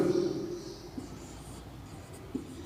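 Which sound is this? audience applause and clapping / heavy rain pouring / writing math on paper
writing math on paper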